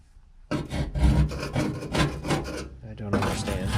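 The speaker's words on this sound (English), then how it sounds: "Like every day I can scrape more and more paint off." Scraping flaking paint off the galvanized metal of a 1988 Chevrolet S10 Sport, a run of loud, close rasping strokes that starts abruptly after a short quiet moment and continues with brief pauses.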